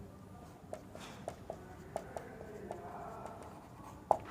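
Pen writing on paper during a civil engineering lesson on net area of tension members, with faint, short scratchy strokes repeating in quick bursts over a steady low room hum.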